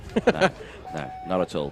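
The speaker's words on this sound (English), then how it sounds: "you can hear there in the background the buzzer sounding, meaning that the dummy grid area is about to close" At a kart race meeting of the British Kart Championships at Larkhall, a steady buzzer tone sounds faintly in the background as the dummy grid closes, running under nearby conversation.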